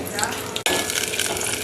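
Onions frying in oil in a bowl, a dense steady sizzle with a brief cut near the start and a faint clink at the end, no voices.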